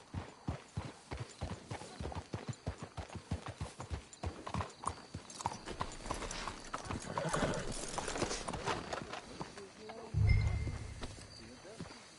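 Rhythmic clip-clop of horse hooves on hard ground in the video game Red Dead Redemption 2, steady and close, fading into rumbling ambience with a low thud near the end.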